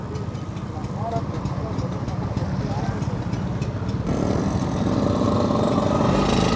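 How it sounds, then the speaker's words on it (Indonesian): A Vespa scooter engine drones steadily while riding with four people aboard. The low mechanical hum gets louder and busier partway through, and people talk over it. "Jadi kita nyoret pakai Vespa"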